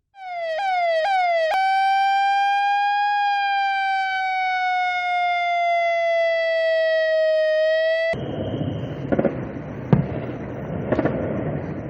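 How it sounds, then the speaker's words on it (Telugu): A loud air-raid siren winds up in rising sweeps, then holds a long steady wail for several seconds before cutting off into rumbling outdoor noise with a few sharp bangs, near the India–Pakistan border during drone attacks. "ఆ ప్రాంతంలో భారీగా సైరన్ శబ్దాలు వినిపించాయి"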